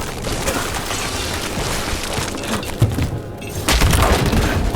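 A ballista firing in the video game Dragon Age: The Veilguard, with heavy booming thuds and crackling impacts over a loud, dense battle din, and a sharp thump standing out near the end.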